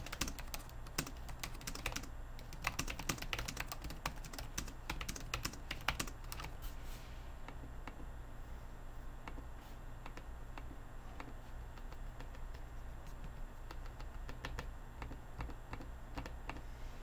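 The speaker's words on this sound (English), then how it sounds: "It is a manual click, however, so it does not have the vibration click like on the MacBook Pro." Manual clicks of a Razer Blade 15 laptop trackpad, a rapid run of sharp close clicks in the first six seconds, then sparser faint clicks over a steady hum.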